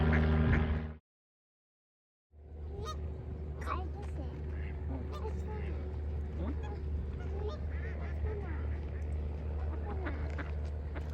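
A flock of ducks in the USA, the front one black with a white head, honk and quack nearby after a brief silence, with scattered calls over a steady outdoor background.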